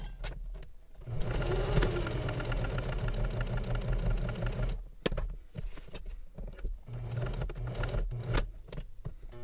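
A domestic sewing machine top stitching a travel belt runs in steady, rapid stitching bursts, a long continuous run, a brief pause, then shorter runs, close and moderately quiet.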